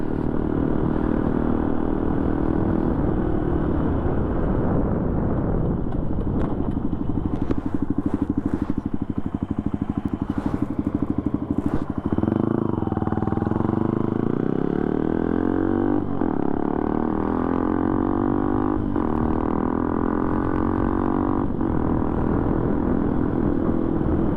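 A Benelli TNT 135 motorcycle cruises steadily through a neighborhood in fourth gear at about 25 mph, its small engine droning continuously and close by, with slight shifts in pitch as the throttle changes.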